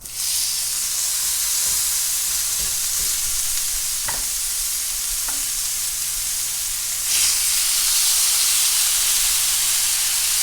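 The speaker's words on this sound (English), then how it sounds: "Now let those sear and brown it on each side." Pork tenderloin sears in a hot cast iron pan, a loud, close, continuous hissing sizzle with a few faint clinks, swelling louder toward the end.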